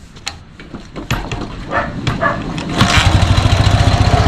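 A Dnepr MT11 motorcycle engine with PZ30 carburetors cranks and catches, settling into a steady, loud, rhythmic idle thrum nearby after a few sputtering attempts.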